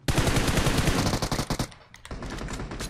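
Rapid automatic gunfire in PUBG Mobile, a loud, dense burst of shots firing continuously for about a second and a half, then a brief lull and more sustained firing, all close and dominant.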